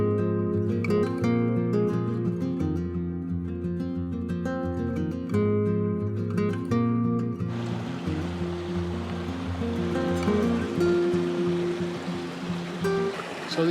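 Riggindale Beck, a stream in the Lake District, heard as a steady rushing water flow close by, with a broad continuous wash joined by musical tones that fade out partway through.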